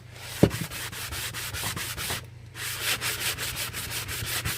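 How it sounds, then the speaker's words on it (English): Rhythmic sandpaper rubbing by hand on a crafted piece, a series of quick, close scratchy strokes repeating steadily, with one sharp knock near the start and a brief pause midway. "I've got sandpaper out here. And yes, I'm sanding this"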